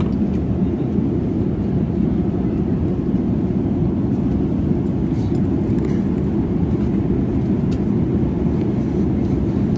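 A steady, loud low roar fills a passenger airplane cabin during flight, constant engine and air noise with no breaks and no talking.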